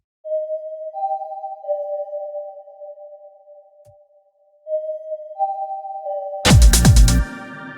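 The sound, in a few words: synth arpeggio with heavy reverb in electronic track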